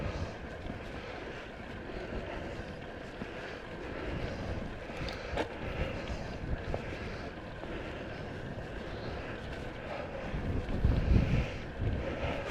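Headwind buffets the microphone on a winter solo road ride in Dorset, a steady low roar of wind with gusts swelling toward the end, no voices.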